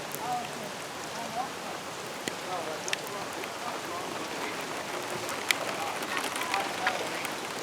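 Rain falls steadily outdoors, a constant patter on surfaces with scattered sharper drips and taps throughout, no voices over it.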